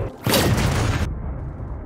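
A single sniper rifle shot in a film, a sudden heavy boom with a sharp crack that rings out and cuts off abruptly, followed by a lower lingering rumble.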